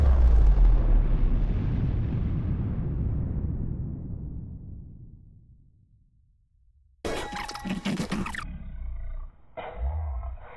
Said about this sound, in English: Area bombing.